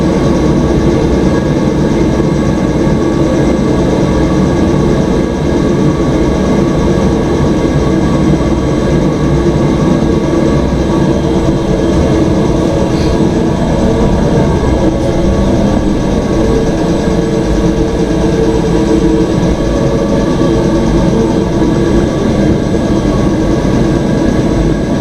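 A military tent heater runs steadily, a loud, constant low roar and rumble with no change in level, close by and alone for the full stretch.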